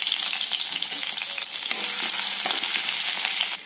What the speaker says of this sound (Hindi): Green chilli, ginger. जैसे ये थोड़ा फ्राई हो जाएंगे